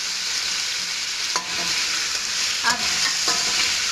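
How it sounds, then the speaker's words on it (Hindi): Potato pieces fry with chicken in a pan, a loud, close, continuous sizzle broken by a few sharp stirring scrapes, with one brief spoken word. "2 से 3 मिनट हम आलूओं को इसमें अच्छे से फ्राई करेंगे"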